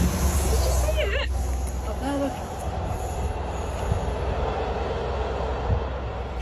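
A train rolls past with a low rumble and a brief wheel squeal, while someone talks excitedly nearby and a whistle-like tone sounds early on.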